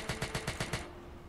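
Rapid automatic gunfire in the GTA V Role Play video game, about six evenly spaced loud shots in quick succession that end abruptly, leaving a faint steady background hum.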